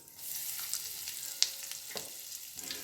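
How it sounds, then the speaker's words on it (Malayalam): Curry leaves, turmeric, fenugreek and asafoetida fry in hot oil with a soft, steady sizzle, broken by a few crisp pops and crackles; fairly quiet and with no talking. "ഇതെല്ലാം ഇട്ടൊന്ന് നന്നായിട്ടൊന്ന് മൂപ്പിക്കുക"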